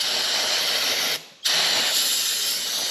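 A steady, close hiss of aerosol parts cleaner sprayed on a Jeep Grand Cherokee driveline, briefly cut off for a moment, then resuming just as strongly.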